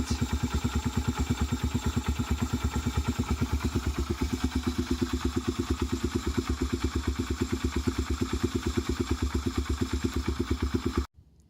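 A Yamaha XV250 motorcycle engine idles close by after starting, its steady, even thumping pulse running loud for about eleven seconds before it cuts off abruptly.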